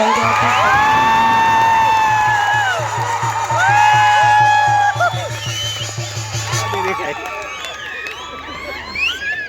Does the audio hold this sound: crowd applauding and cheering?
yes